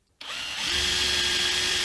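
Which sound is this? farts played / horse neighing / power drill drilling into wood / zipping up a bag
power drill drilling into wood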